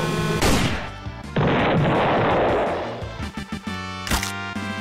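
Pistol gunshots in an animated Mario cartoon, a loud burst of blasts and echoing impacts followed by a few sharp shots, with music underneath.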